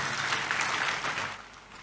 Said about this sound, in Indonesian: Tepuk tangan yang meriah sekali lagi buat Yesus kita.